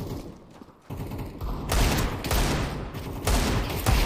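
Desert Eagle pistol fire in the Counter-Strike 2 game, a few heavy booming shots layered with other gunfire and mechanical clatter, fairly loud and close.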